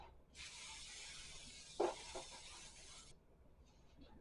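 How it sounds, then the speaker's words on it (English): Cooking spray hisses from a can onto baking pans in a home kitchen, one continuous close spray of almost three seconds with a light clink partway through, then quiet. "So I'm going to spray each of these pans that you get ready to fill up and just set them to the side."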